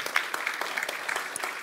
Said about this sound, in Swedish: Vi ger dem en applåd.